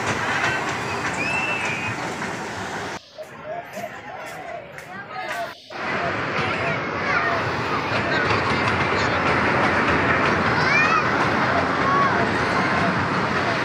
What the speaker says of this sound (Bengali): ট্রেন আসতেছে।